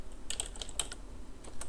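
Quick, light keystrokes on a computer keyboard come in a short irregular burst, fairly quiet and close, with no voices.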